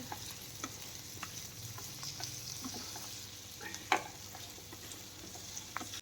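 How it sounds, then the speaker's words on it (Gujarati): A spatula stirs a farali dish in a pan after roasted peanut powder is added. Soft scraping strokes and light clicks come over a faint, low sizzle, quiet and close. "મગફળીના ભૂકાને એમાં એડ કરશું અને ફરી પાછું આપણે હલાવશું"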